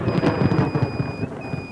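Thunder from lightning striking very close during a storm in Tornado Alley, a loud, rolling rumble with crackling pulses that fills the brief moment, joined by faint steady tones.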